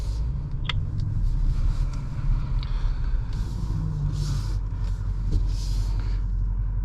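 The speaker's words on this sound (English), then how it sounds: "It's a lot of wheel spin." A BMW X5 M60i climbs an off-road hill in Thermal, California, its wheels spinning over a steady, loud, close engine rumble that holds throughout with no talking.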